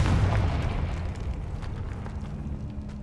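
A Confringo fire spell explodes in Hogwarts Legacy, a loud deep boom at the start that rumbles on and slowly fades over a low roar.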